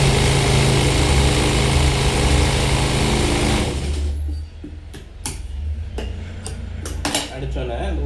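Sewing machine stitching a blouse: a steady loud mechanical whir for the first few seconds, then it stops and leaves soft clicks and handling noises with a low hum.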